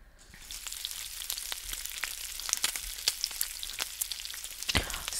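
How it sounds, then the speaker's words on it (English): Steady crackling sizzle of bacon frying, dense little pops and spits over a constant hiss, fairly close, no voices. "Bacon frying"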